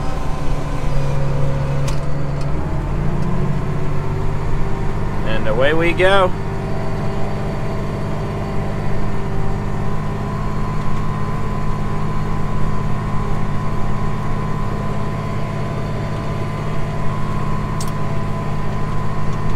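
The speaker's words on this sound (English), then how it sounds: "And we are in the field again, in the tractor." Tractor engine running steadily in a field during corn planting in 60-inch rows, a continuous low drone throughout with someone speaking briefly over it.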